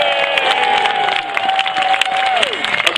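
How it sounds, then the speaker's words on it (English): Crowd applause and cheering at a castle jousting tournament at Kenilworth Castle form a dense, steady wash of clapping, while a sustained tone slides downward near the end. "So give him a round of applause, ladies and gentlemen."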